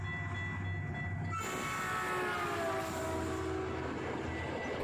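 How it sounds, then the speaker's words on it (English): An old train rumbles past close by, steady and loud, with a sharp rise in noise as it arrives and a sustained roar of cars rolling through. "That's an old school train."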